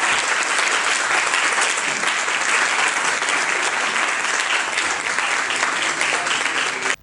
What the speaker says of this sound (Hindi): आप सबकी इन तालियों का